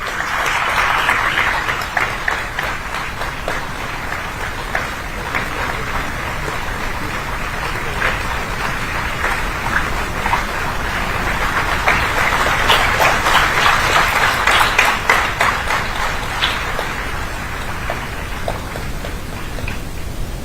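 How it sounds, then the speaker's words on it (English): Sustained applause from a large audience at the inaugural ceremony of VITAP's International Higher Education Fair, a dense, steady wash of clapping that swells slightly midway and carries on unbroken for the whole stretch. "Let's keep the applause going."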